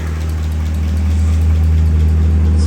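A Toyota Avalon engine idles rich with a steady, loud low hum and faint irregular knocking, running alone without any talk.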